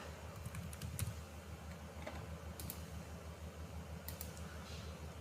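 Keys clatter on a computer keyboard in quick, irregular clusters of soft clicks over a steady low fan hum, close and fairly quiet.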